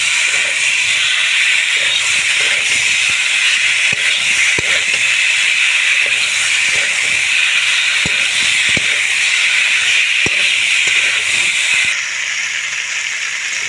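Cauliflower florets stir-frying with mixed vegetables in a pan, a loud steady sizzling hiss throughout with occasional scraping stirs, easing slightly near the end.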